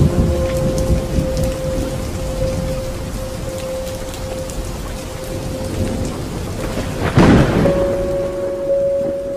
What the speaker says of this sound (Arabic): مطر زخ كأنه في منطقة زي المناطق الموسمية